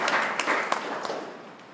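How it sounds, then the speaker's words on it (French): Church congregation applauding during a service, a short burst of dense, lively clapping from many hands that gradually tapers off. "Applaudissez Jésus très fort"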